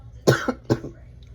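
Two short, sharp coughs close to the microphone, the second following about half a second after the first, then quiet.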